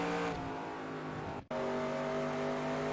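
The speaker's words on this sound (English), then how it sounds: "gradually apply the throttle until you have the thing floored as you come off of 4" A NASCAR race car accelerating at full throttle in the video game NASCAR Racing 2002 at Homestead-Miami Speedway, with a loud, steady engine whine broken by one brief cut midway before the roar resumes.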